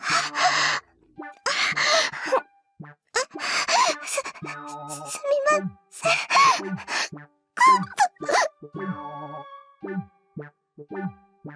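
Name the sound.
labored breathing and gasping, from a visual novel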